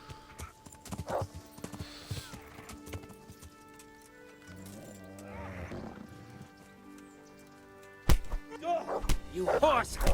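Horse hooves clip-clop on the ground in the video game Kingdom Come Deliverance, a run of hoofbeats that grows louder and busier toward the end, mixed with game sounds and voices.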